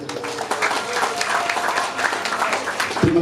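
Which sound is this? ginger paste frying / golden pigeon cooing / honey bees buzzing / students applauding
students applauding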